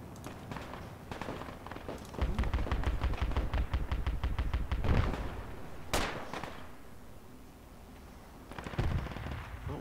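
Rapid bursts of automatic gunfire from the tactical shooter Project Reality, close and loud, with a sharp single crack partway through and more distant firing and movement around it.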